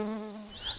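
A honeybee gives a brief, close buzzing hum with a steady droning pitch that fades near the end.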